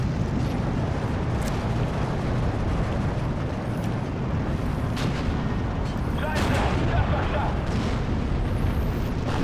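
Anti-air gun fire in the World War II strategy game Steel Division 2, a dense, continuous barrage of booming shots and rumble layered with battle noise throughout.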